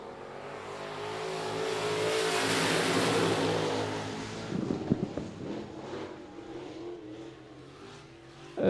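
Stock cars race past at I-37 Speedway, a loud engine roar swelling as the pack approaches and then fading, with a rumbling drone continuing afterward.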